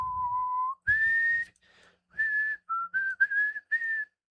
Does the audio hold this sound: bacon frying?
no